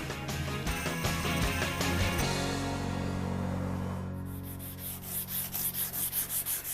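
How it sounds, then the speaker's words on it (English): Steady rhythmic rubbing of fine 240-grit sandpaper on wood, continuous and close, shifting near the end to quicker, regular back-and-forth strokes. "From a jet wash to a sanding session. I'm using a very fine 240 grit sandpaper."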